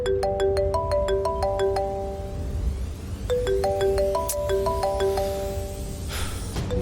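A phone ringtone plays a repeating melodic tune twice in a row at steady volume over a low background hum, with no talking.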